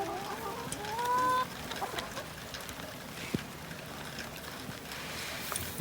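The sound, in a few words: chickens clucking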